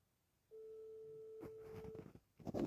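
A telephone rings with a steady tone lasting about a second and a half, followed by brief clattering sounds and a short burst of noise at the end.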